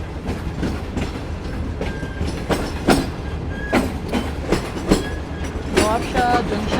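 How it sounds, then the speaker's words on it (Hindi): The Shalimar Express rolls into Nawabshah Junction and crosses from the main line onto the platform loop, its wheels clacking rhythmically over rail joints and points with occasional thin squeals, steady and close throughout. "नवाबशाह जंक्शन पर ट्रेन दाखिल हो रही है और मेन लाइन से लूप के ऊपर चढ़ चुकी है"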